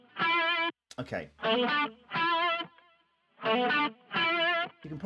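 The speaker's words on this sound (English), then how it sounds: "I found a frequency in the guitar sound that's sounding a bit nasty and abrasive" Processed guitar phrase with a harsh, abrasive resonance: five or six sustained, buzzy distorted notes separated by gaps and a brief scrape, moderately loud and close, heard alone without speech.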